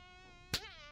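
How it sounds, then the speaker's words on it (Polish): A fly buzzes in a steady, close, high whine with a rich harmonic tone, briefly interrupted by a sharp thud midway before the buzz resumes with a wavering pitch. "Mamy tu muchę."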